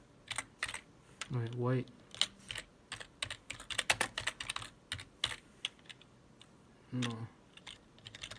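Rapid, uneven clicking of keys on a computer keyboard patters close by in short bursts, with someone speaking briefly over the typing.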